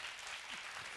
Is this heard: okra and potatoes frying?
no